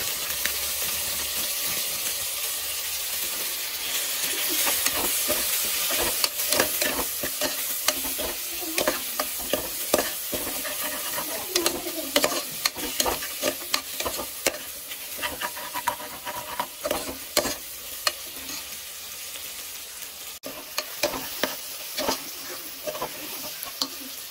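Soaked uppanchulu beans fry and get stirred in a pan with turmeric, a steady sizzle running throughout with frequent sharp scrapes and clinks of the spoon against the pan growing busier toward the end.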